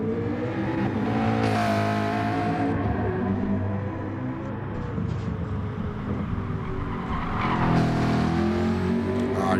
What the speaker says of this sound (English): he winds up the McLaren now. Of course, turbo V8.